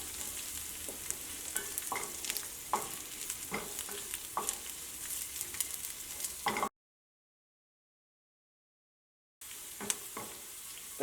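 Ginger and garlic frying in a pan give a steady close sizzle with sharp clicks from stirring. The sound cuts out completely for a few seconds, then the sizzling resumes.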